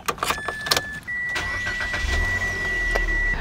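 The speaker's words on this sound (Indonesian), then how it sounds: "Untuk nyalain mesin, jangan lupa masih menggunakan kunci." A Mitsubishi Xpander Exceed facelift engine is started with a key: a few clicks and a brief crank, then the engine catches and settles into a steady idle while a chime tone sounds inside the cabin.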